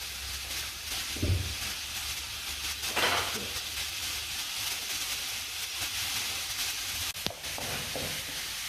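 Vegetables sizzling in a pot for mulligatawny soup, a soft continuous hiss and crackle heard close up, with a few faint knocks and stirring sounds over several seconds and no talking.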